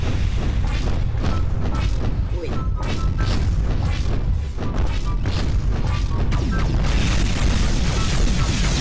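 Mortar blasts from a weapon mod in Garry's Mod boom in quick succession, loud and dense, a continuous barrage of heavy detonations with crashing debris throughout.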